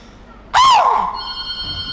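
A voice imitates the sharp alarm call of a chital deer, a single loud rising-then-falling shriek lasting under a second, followed by a faint ringing tone in the background.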